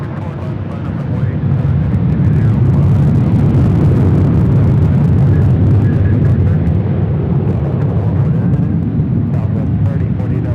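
A jet airliner roaring on takeoff at Los Angeles International Airport, a loud, sustained, broadband engine rumble holding steady throughout with no voices.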